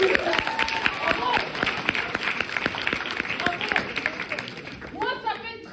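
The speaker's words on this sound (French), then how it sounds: "on peut les applaudir, s'il vous plaît" An audience applauds a couple at a gathering, steady clapping from a crowd with cheers, while a person speaks over the applause.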